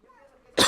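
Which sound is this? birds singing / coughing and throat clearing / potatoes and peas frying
coughing and throat clearing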